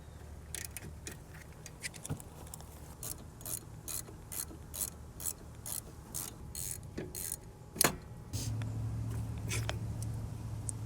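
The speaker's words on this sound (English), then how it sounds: "Now we're gonna remove caliper, or to be specific, lower part of it, which is bolt right here. It's a 17mm bolt." A ratchet clicks in quick bursts while loosening the 17mm rear brake caliper bolt on a Lexus ES300, close metallic pawl ticking with a sharp clank, then a steadier low hum underneath.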